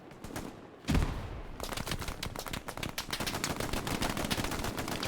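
Machine gun fire in the World War II shooter Hell Let Loose, a mounted MG firing dense, rapid bursts that run almost continuously after a heavy opening thump, loud and close with distant gunfire layered underneath.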